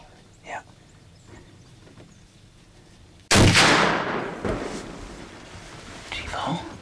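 A single loud rifle shot fired while hunting outdoors, sharp and close, with its echo rolling away afterward, preceded and followed by quiet whispered talk between hunters.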